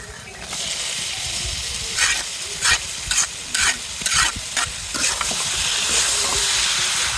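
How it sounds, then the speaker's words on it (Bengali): Beef tripe frying in a masala of spices, a loud steady sizzle with several bursts of stirring and scraping about half a second apart in the middle, close to the pan. "এভাবে আমি আস্তে আস্তে ভাজতে থাকবো ভুড়িটা"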